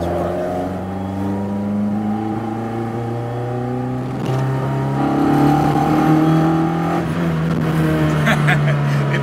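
A highly prized Ford Escort revving while being driven, the engine note climbing through the gears with strong rising harmonics and a gear change midway, heard from inside the car.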